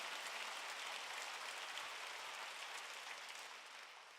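Applause from a church congregation at a Sunday worship service, a dense, steady wash of clapping heard alone that fades slightly toward the end.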